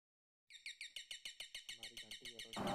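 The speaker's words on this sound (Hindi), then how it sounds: "क्योंकि हमारी ये घंटी बजने लग जाएगी।" An electric alarm bell, wired to a generator changeover switch to signal mains power returning, rings in rapid, steady bursts, loud and close, starting abruptly after silence and continuing without pause.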